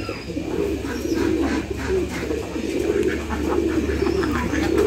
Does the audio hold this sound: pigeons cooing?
yes